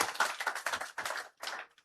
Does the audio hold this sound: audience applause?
yes